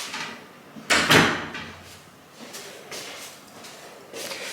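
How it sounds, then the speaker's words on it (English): A door closing in a home kitchen on Christmas ham day, a firm thud near one second followed by softer knocks and handling noises, close and without talk. "I am just gonna close the door"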